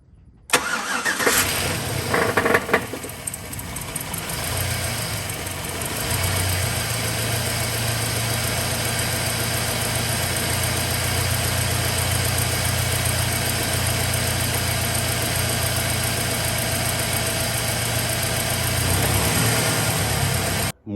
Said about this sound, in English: Once all of the initial clatter went away from all of those lifters pumping up, it actually smoothed out a bit